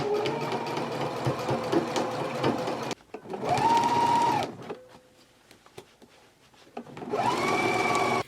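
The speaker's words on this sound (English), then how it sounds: "Back stitch at the beginning and the end." Sewing machine stitching a jacket seam with a backstitch, the motor whirring in a long run followed by shorter bursts that ramp up and down, close and loud with brief quiet gaps.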